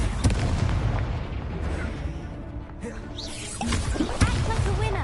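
Incendio fire spell cast in Hogwarts Legacy, a run of booming bursts and crackling blasts layered over dense game effects, with loud hits near the start and again toward the end.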